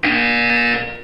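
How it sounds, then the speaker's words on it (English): A steady electronic buzzer from the video game Portal 2 sounds loud and alone, one continuous harmonic tone lasting about a second before tapering off. "You will hear a buzzer."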